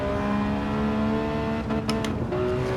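A Ferrari engine revs in the Gran Turismo 7 racing game, a steady droning tone holding at moderate volume with a brief brighter flutter partway through, and no one talking.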